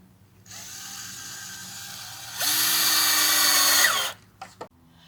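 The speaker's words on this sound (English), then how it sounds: "we're just screwing in 2 screws a board" A power drill drives a screw into cedar boards for a garden box, whirring at low speed, then revving louder for about two seconds before stopping, followed by a few light clicks of handling.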